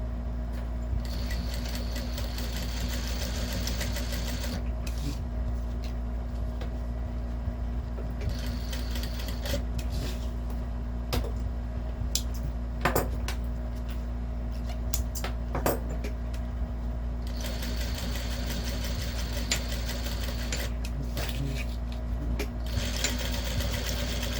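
Sewing machine stitching fabric for a Kombi-style lunch bag, a steady close mechanical hum and rattle running continuously through the whole stretch, with brief pauses and clicks between seams.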